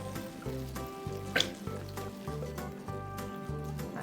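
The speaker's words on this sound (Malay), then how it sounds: "Lepas tu kita tumis sampai dia pecah minyak balik." Chili paste thinned with a little water sizzles in hot oil in a pan, sautéed until the oil separates. A close, steady crackle and hiss continues throughout, with a brief sharper splatter partway through.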